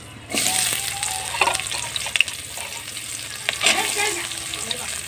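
Onions dropped into hot oil with cloves, cardamom and cinnamon for a cauliflower meat curry, starting with a sudden burst and then a steady close sizzle with a few stirring scrapes, no talk.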